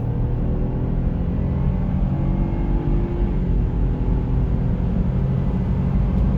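A 2019 BMW 318i F31 estate with a chiptuned 136 hp engine accelerating hard from around 80 km/h in Sport Plus mode, heard from inside as a steady, loud engine drone with road rumble and no talking.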